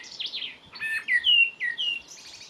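A blackbird perched nearby sings a short, clear run of fluting, whistled phrases with rising and falling notes, close and alone with no talking.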